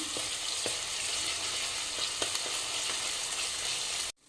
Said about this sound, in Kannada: ಶುಂಠಿ ಬೆಳ್ಳುಳ್ಳಿ ಪೇಸ್ಟು ಸ್ವಲ್ಪ ಹಸಿ ವಾಸನೆ ಹೋಗೋದು ಹುರ್ಕೊಳ್ಳೋಣ